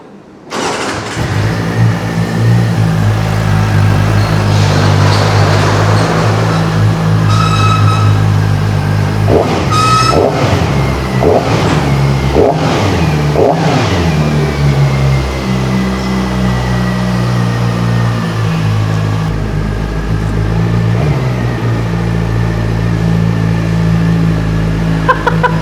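New supersport motorcycle engine cranks and catches, then settles into a loud, close idle with several sharp revs in the middle before steadying again, running continuously throughout.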